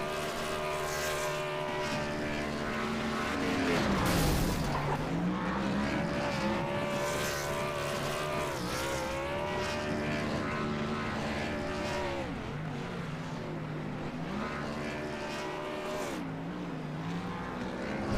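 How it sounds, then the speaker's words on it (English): Race winner's car in a racing video game doing a burnout after an Xfinity Series race at Watkins Glen, a loud sustained engine roar with rising and falling revs and tire squeal, steady throughout with no pauses. "He'll throw it down and burn it out for the folks here in the MRL Xfinity Series"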